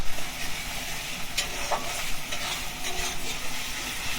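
Meat cooks in a pot in a village home kitchen, giving a steady, close hiss of sizzling with a few brief scrapes and clinks of stirring.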